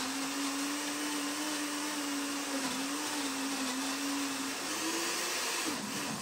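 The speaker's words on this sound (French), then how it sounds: "Je vais mixer, ça va faire du bruit." A kitchen blender purées raw carrots with a continuous loud, whirring drone. The motor pitch holds nearly steady and wavers slightly near the end, with no voices.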